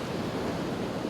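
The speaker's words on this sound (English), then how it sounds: "These waves that are coming in now are a lot bigger than what they were earlier" Sea waves rolling in at Collywell Bay, Northumberland, a steady broad wash of surf heard close and continuous with no voices.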